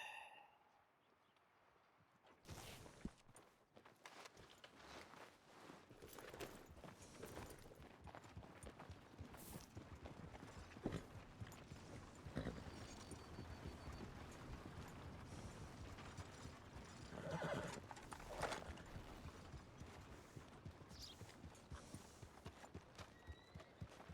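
Horse hooves clip-clopping steadily in Red Dead Redemption 2, with a brief neigh, mechanical creaks and clatter over a busy, close game soundscape that starts after a couple of seconds of near silence.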